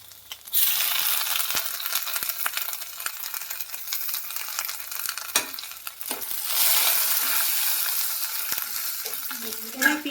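Chopped garlic and ginger frying in hot oil with dried red chilli and bay leaves, a steady loud sizzle that swells louder partway through, with faint clinks of stirring and no voices.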